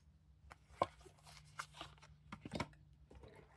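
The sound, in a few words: shuffling small cards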